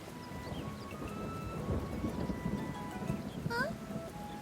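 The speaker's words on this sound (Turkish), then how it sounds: "yağmur çiseliyor olur mu?" Rain falls in a steady patter with low rumbling underneath, and a few faint tonal chirps rise briefly near the end.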